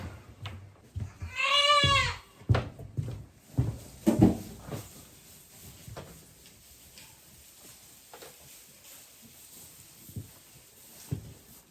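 Goats bleat and cry loudly on weaning day, one long wavering bleat standing out near the start, followed by scattered thumps, knocks and shuffling from the pen, fairly close.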